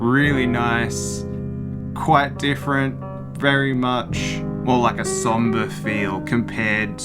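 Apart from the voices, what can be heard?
No everyday noises stand out.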